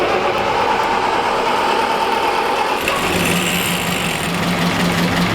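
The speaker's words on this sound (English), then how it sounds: "We're starting up the Big Daddy. 29 horsepower." A classic 29-horsepower Auto Union car engine catches and settles into a loud, buzzy, uneven idle close by, its pitch shifting partway through as the timing is adjusted, with no talk.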